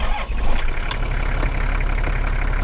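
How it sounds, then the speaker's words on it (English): Car engine idling steadily, recorded with a microphone placed inside the engine bay, a loud, even low rumble with a constant drone and no voices. "I've tried now to mic up the engine bay, so we'll see how this goes."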